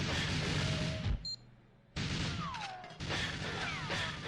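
Glass shatters in the Aztec level of GoldenEye 007 in a string of loud crashing bursts separated by sudden quiet gaps, some with bright tinkling falls of shards, close and with no talk.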